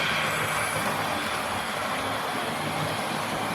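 A model railway Grange class steam locomotive runs on the layout, giving a steady, continuous rolling hum and clatter at even volume with no pauses.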